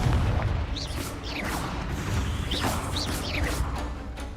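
Blasting spell explosions in the Hogwarts Legacy video game, a steady run of booming bursts and crackling impacts with whooshing streaks layered over dense game noise, loud and close throughout.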